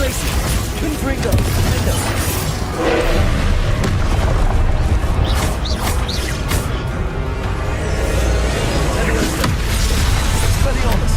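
Confringo blast spells and other combat spells in Hogwarts Legacy: loud, constant blasts and booms in a busy magical fight, with a voice calling out over the noise.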